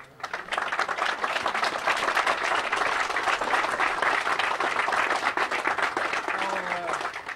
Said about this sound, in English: If I have another round of applause.